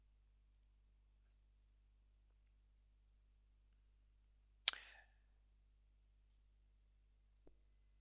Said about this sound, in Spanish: vamos a hacer un clic en aceptar